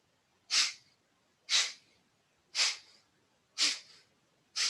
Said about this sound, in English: First one is a forced exhale with a relaxed inhale